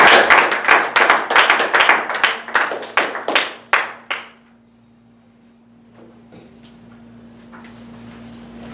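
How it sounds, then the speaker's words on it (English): Brief applause from a small audience at a public-speaking club meeting: about fifteen crisp, separate claps over four seconds, then it stops, leaving a quiet room with a low steady hum. "please give a warm round of applause to Miss Gloria E."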